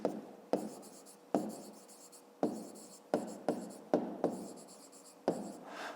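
Pen writing figures on paper during a fifth-grade maths exercise, with a steady run of short scratchy strokes in quick bursts, close and fairly quiet, and no voices.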